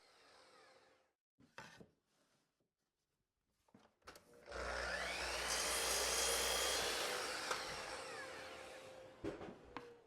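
A table saw cuts wooden box parts to length against a stop block: brief knocks and the motor spinning up, then one loud sustained whining cut of about five seconds, followed by quieter clunks as the piece is cleared.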